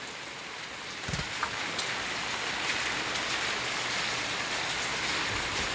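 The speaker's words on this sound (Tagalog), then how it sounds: "Basta ang ulan." Heavy rain pours steadily in a dense, constant hiss with no pauses, no voices present.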